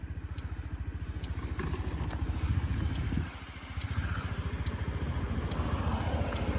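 A Honda Dio 110cc fuel-injected scooter, JF31, runs at a close, steady idle, its fast even pulsing putter broken by a brief dip near the middle before settling back.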